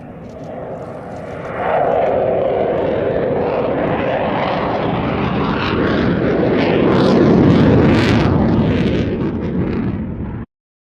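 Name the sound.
Osprey tiltrotor aircraft engines at RAF Mildenhall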